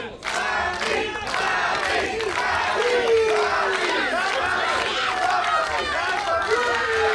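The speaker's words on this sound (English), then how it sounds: "We have a pro-Poppy crowd here tonight." A pro-wrestling crowd at the WrestleRave Food Fight event roars and yells continuously, with shouted cheers and whoops rising over a dense, loud wall of voices throughout.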